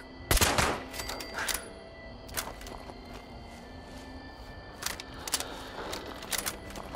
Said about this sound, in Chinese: 好像在这边来的枪声